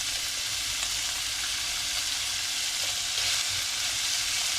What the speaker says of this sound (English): getting my pan hot, we're going to add in the kielbasa. It's already cooked, but we just want to sear the meat